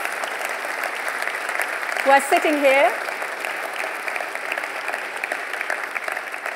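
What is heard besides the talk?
big round of applause for national winners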